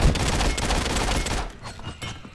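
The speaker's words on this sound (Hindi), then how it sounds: "ऐसे ही गोलियां चला रहे क्या खाली फोकट में." Bursts of rapid gunfire in the video game Realm Royale crackle loud and close, forming a dense volley that thins into scattered shots toward the end.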